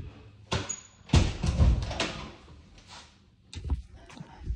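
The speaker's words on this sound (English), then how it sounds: "I'm gonna put this down so I can open this door." A sticky pantry door in a house being forced open: a series of thumps, rattles and scraping knocks, some sharp and loud, spread over a few seconds with brief pauses between.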